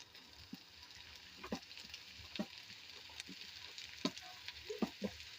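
Curry leaves and onions fry in oil for a chickpea roast, giving a soft, steady sizzle with scattered spatters and a few stirring clicks, quiet and close, with no talking.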